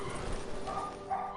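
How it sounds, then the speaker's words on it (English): Several dogs barking and yipping upstairs in another room, faint and muffled, a steady scatter of barks with a couple of sharper yelps. "Sorry if you can hear my dogs, they're barking in the background."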